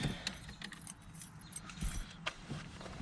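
Keys jangle quietly near a 1986 Oldsmobile Cutlass 442, with a few soft metallic rattles and clinks scattered over a low background hum.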